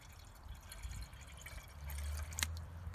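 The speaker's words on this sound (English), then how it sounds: "Put us about 12 to 14 ounces of water inside of this." Water, about 12 to 14 ounces, pours into a container as the base for a pine resin salve mixture, making a steady low splashing trickle with a brief bright splash near the end.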